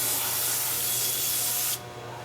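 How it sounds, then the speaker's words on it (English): Brake cleaner sprayed onto a clutch surface during a 2006 Toyota Tacoma 4.0L X-Runner clutch installation: one loud, close, continuous hiss that cuts off abruptly near the end. "a good spray of brake clean."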